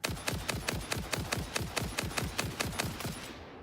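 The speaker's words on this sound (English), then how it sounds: "Let me see if I can shoot him." Rapid automatic gunfire from a Minecraft video game: a steady, evenly spaced burst of about fifteen sharp shots, loud and close, with no talk over it.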